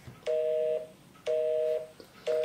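A phone rings for an incoming fake boyfriend call, playing a steady electronic tone in three evenly spaced bursts, each about half a second long with a pause between, clear and close with no voices.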